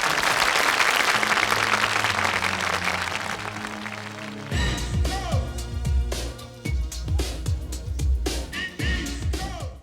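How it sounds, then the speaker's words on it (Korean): Studio audience applause fills the first half, heavy clapping over a sustained musical tone, then cuts abruptly into a loud, rhythmic early-1990s Korean pop track with punchy beats. "박수로 청해 듣겠습니다"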